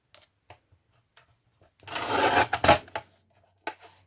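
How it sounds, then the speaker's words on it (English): A paper cutter slices through cardstock in one rasping, scraping pass lasting about a second, with a few quiet clicks and taps of handling before and after. "do it with a paper cutter"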